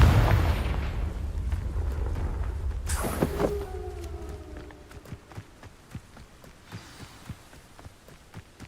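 A Confringo blasting curse goes off in Hogwarts Legacy: a roaring, rumbling burst gives way to a sharp, heavy blast, followed by a ringing tonal tail and scattered faint clicks as the scene settles.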